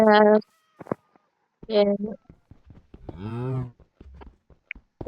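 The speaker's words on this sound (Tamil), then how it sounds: "பூனை நில்லு நில்லு, பூனை பூனை பூனை பூனை" A cat meows in the video game Minecraft, several distinct meows spaced across the span, with a cow's moo mixed in and brief game noises between.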